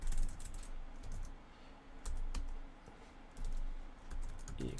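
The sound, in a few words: typing a git command on a computer keyboard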